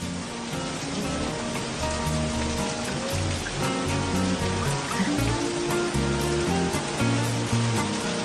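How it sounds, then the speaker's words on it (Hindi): Heavy rain pours steadily, a dense continuous hiss of drops drumming on a surface, loud and close throughout. "भयंकर बारिश शुरू हो जाती है।"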